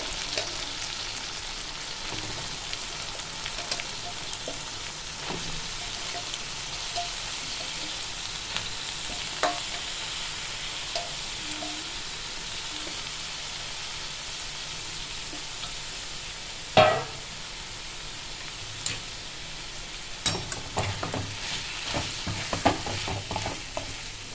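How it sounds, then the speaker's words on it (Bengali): Banana stem and fried prawns being stirred in a pan over low heat, a quiet steady sizzle broken by occasional scrapes and a few sharper knocks of the spoon. "এইভাবে ভালো করে নাড়াচাড়া করতে হবে।"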